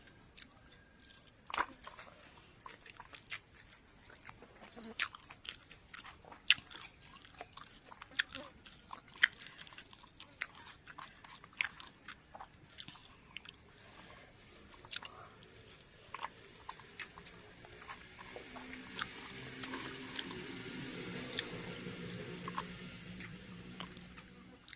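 Close, quiet chewing of rice mixed with dal and green chillies, with soft, irregular wet bites and crunches spread over a long stretch.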